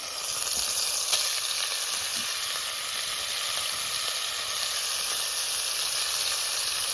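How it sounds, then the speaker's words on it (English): Bacon sizzles and fries steadily in a Dutch oven at a solo wild campsite under a tarp, a dense continuous crackling hiss that stays loud and even throughout with no talking. "Just try a little bit of bacon, see what it does in there."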